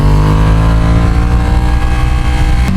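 A Ducati Panigale V2 sport bike fitted with a full exhaust revs loud and close, its deep, steady engine note thrumming without a break and rising slightly toward the end.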